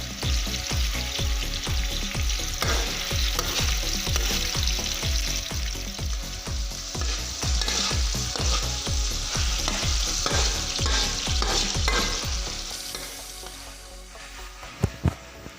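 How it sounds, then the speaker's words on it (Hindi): Two thickly chopped onions fry in a pan for a chicken korma, giving a steady loud sizzle with rhythmic stirring scrapes throughout that fades near the end, no talk. "इसमें 2 मोटी कटी हुई प्याज डाल के इसको अच्छी तरह से फ्राई करेंगे।"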